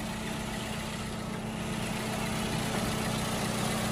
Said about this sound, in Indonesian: Ini kondisi mesin ketika masih bahan, belum di tune up, masih nyala ya.